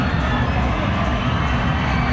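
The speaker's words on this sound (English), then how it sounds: "Now the Mustangs fans getting riled up with the new cheer squad" Steady, loud crowd roar from Chicago Mustangs fans at an indoor football game against the Cedar Rapids Rampage, a dense unbroken wash of noise with no distinct cheers standing out.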